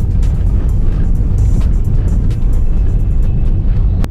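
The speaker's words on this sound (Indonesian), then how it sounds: "Itu truk guys, di jalur kita lagi." Heavy, loud road roar from inside a moving car, with a passing truck approaching in the same lane somewhere in the steady noise and a few brief clicks and thumps.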